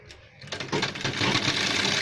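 A sewing machine stitches along a marked line on a gents shirt sleeve, starting up and running steadily close by, with a faint voice in the background.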